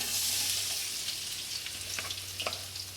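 Potatoes dropped into hot oil give a dense, close, continuous sizzle with bubbling crackles that thicken toward the end.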